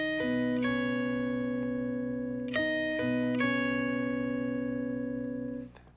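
An electric guitar plays the lead line from the worship song "Who Can Compare To You" with a lower-octave effect added. A few long sustained notes change about four times, then the last note fades out, with no speech.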